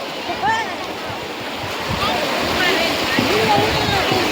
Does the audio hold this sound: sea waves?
yes